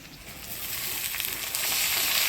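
Cut vegetable stems go into hot oil already seasoned with black cumin seeds and chopped onion, and a close, bright sizzle swells louder and steadier as they hit the pan, with nobody speaking.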